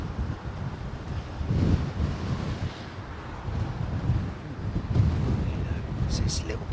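Blustery wind sweeps across the Heathrow airfield, buffeting the microphone in uneven, rumbling gusts that swell and ease continuously, with faint indistinct voices.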